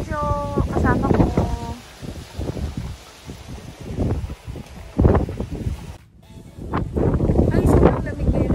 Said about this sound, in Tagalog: At saka sobrang windy, sobrang hangin.